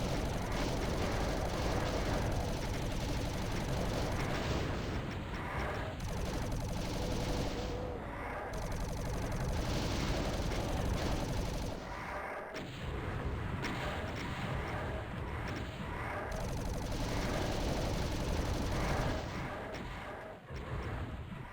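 Rapid plasma gun fire in Doom on the Sunlust map, dense crackling bursts of energy shots mixed with explosions and monster noise, loud and continuous throughout with brief pauses.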